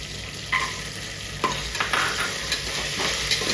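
Cashews frying in a pan for spinach paneer rice, a steady close sizzle with several clear stirring scrapes and knocks of a spoon, no voices.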